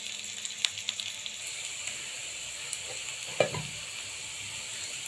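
Food cooking in a little soybean oil sizzles softly and steadily, with a few faint utensil clicks and one sharper knock midway; no one speaks.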